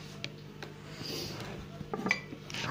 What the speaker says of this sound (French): On les met sur la planche.